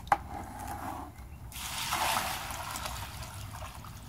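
Water splashes and trickles as it is poured off Quikrete pool filter sand being cleaned, starting with a sharp knock, then a steady wet pouring that fades to a dribble.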